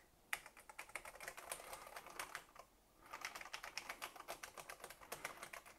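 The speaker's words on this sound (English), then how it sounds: "Maybe I have to use the keyboard." Keys clatter on a Thomson MO6 home computer keyboard in quick bursts of clicks, a brief pause splitting two runs of steady typing, fairly faint and with no voices.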